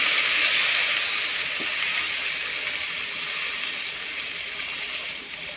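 Water added to a pan of lightly fried fish, a loud steady hiss of steam and bubbling that slowly eases over several seconds, close and continuous.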